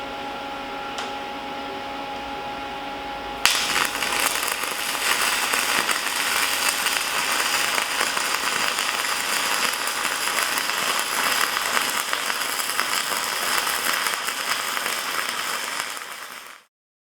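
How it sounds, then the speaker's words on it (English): A Hobart Stickmate 160i stick welder lays a dragged bead after a low steady hum, erupting into a loud, continuous crackling buzz that holds for about thirteen seconds before cutting off. "So let's try to actually weld this on here."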